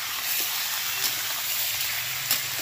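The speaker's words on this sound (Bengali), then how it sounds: "চিকেনটা পুরোপুরি ভেজে নিতে হবে, খুব ভালো করে ভেজে নেবে।" Chicken pieces fry in hot oil in a pan for chicken do pyaza. A loud, steady sizzle hisses throughout, with a couple of small pops, and no voices.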